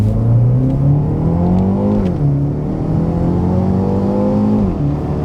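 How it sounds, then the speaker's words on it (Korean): A BMW X2 xDrive M35i's exhaust drones loudly from outside the car as the engine revs up, pitch climbing steadily, dipping at each shift and rising again, with no talk over it. "이게 안에서 들었을 때보다 밖에서 들었을 때 배기음이 더 크게 들립니다"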